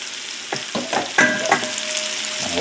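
Butter melting in a skillet for steak and potatoes crackles and sizzles steadily up close, with a handful of sharp spatters and pops and no voices.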